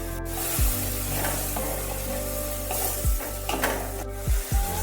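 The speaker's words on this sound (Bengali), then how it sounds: "এবার মশলার যে বাটিটা ছিল সেই বাটি ধোয়া জলটা আমি এর মধ্যে ঢেলে দিলাম" Frying spice masala for okra do pyaza hisses and bubbles in a pan as rinse water from the spice bowl is added, with repeated spatula scrapes and knocks against the pan.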